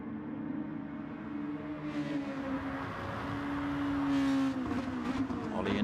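A race car pulls out of the pits at Catalunya in a racing video game, its engine droning and rising in pitch as it accelerates. The engine sounds close and moderately loud, and no one speaks.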